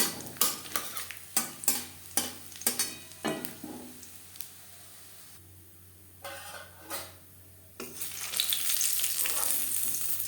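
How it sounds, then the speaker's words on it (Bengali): Bori lentil dumplings fry in hot mustard oil. A run of sharp clacks from a utensil against the pan comes first, then a quieter stretch, then a rising, steady sizzle of frying near the end, close and with no talk. "সর্ষার তেল গরম করে নেওয়ার পর দিয়ে দিলাম বড়ি"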